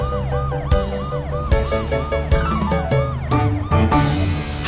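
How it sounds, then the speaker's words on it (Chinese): A cartoon police car siren wails in repeated rising-and-falling sweeps, loud and close, punctuated by several sharp hits and effects, with a brief pause near the end before continuing. "超雷达警车，雷克。"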